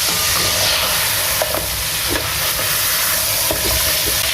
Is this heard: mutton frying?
yes